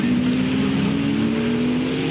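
A Ferrari Challenge race car engine drones steadily at Phillip Island circuit, a sustained loud mechanical tone with no voices over it.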